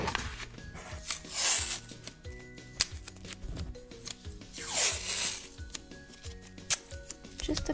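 Tape ripped and torn from a roll while preparing a glitter tumbler, close rasping pulls and crinkly tearing in repeated long strokes over soft tabletop handling, with no talking.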